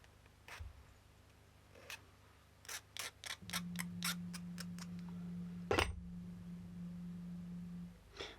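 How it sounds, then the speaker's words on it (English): Short rasping strokes of a file on the edges of a custom guitar part, several quick rubbing passes in a burst, with a steady low hum running underneath, close and fairly quiet. "File all the edges down."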